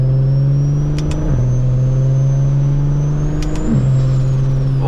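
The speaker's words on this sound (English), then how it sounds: "Oh, that blow-off valve, golly." A turbocharged BMW 335is with a big turbo hums steadily with a strong low engine tone, with two quick high hisses near one second and again near three and a half seconds like blow-off valve releases, and no talk.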